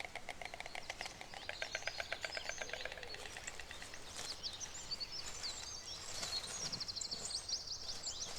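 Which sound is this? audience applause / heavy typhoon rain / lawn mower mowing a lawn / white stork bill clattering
white stork bill clattering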